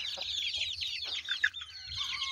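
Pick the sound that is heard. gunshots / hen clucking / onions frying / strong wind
hen clucking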